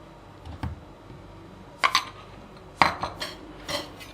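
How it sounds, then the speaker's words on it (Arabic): A scraper spreading green sugar lace mixture over a silicone mat makes a few sharp clicks and taps against the mat and bowl, separated by quiet gaps, close and moderately loud. "وبالقطاعة دي انا هستخدمها ان انا افرد عليها، افرد الخليط ده عليها"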